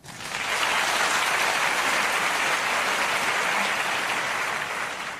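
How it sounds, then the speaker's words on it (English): Women in a comedy show audience clapping, a dense, even burst of applause that swells quickly and holds steady for several seconds before easing slightly, no talk. "Clap if you're a woman in the audience."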